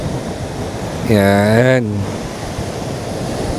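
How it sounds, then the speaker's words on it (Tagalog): Strong waves roll and wash onto a beach at Botolan, Zambales, as a steady broadband surf roar with wind, while a voice briefly speaks over it in the middle. "Lakas ng alon."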